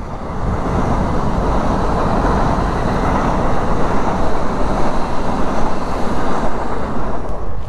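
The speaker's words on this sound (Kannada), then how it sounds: "ನೋಡಿ ಸ್ನೇಹಿತರೆ, ಇಲ್ಲಿ ಟ್ರೈನ್ ಹೋಗ್ತಾ ಇದೆ." Train passing nearby on a rain-soaked hillside route near Chikkamagaluru, a loud continuous rushing rumble of wheels and carriages that holds steady for several seconds, with no talking over it.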